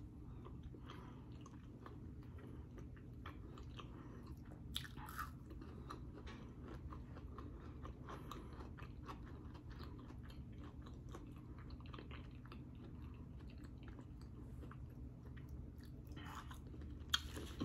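Soft, close chewing and biting sounds repeat quietly and irregularly as someone eats African peanut butter soup with fufu, with no talking.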